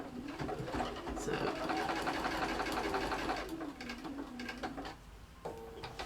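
A sewing machine stitches a small box shape into fabric for a door knob pocket, its steady whirring drone running close and continuous before pausing briefly and restarting near the end.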